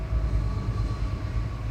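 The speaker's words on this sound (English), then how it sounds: "if you can hear that train in the background" A train rumbles past in the background, a continuous low roar with a faint steady tone above it, moderately loud and alone with no talking.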